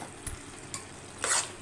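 Potato and chana dal curry is stirred in a pan, with faint sizzling and a few soft scrapes, the last one a little louder and brighter, all close and brief.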